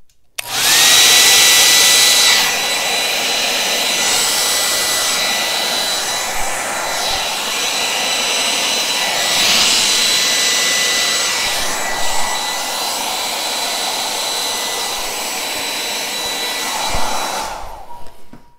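A hair dryer blows hard across a Dutch-pour acrylic painting, a loud steady whoosh that holds for about seventeen seconds with slight surges in pitch, then cuts off abruptly.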